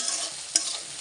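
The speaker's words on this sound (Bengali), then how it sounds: "এখন পেঁয়াজটা ভালোভাবে লাল করে নেব।" Onions frying in a pan with turmeric and salt, a soft steady sizzle with a brief stir or scrape partway through, close and quiet, no voices.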